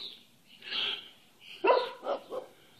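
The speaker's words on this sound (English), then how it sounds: "he just come around my garage and started barking at me" A loose neighbourhood dog barks at a garage, two or three separate barks and yips with brief gaps, fairly close and alone without talk.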